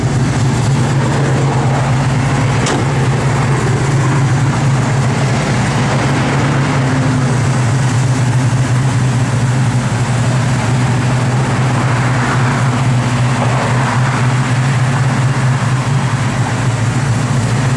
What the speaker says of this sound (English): Blower motor works.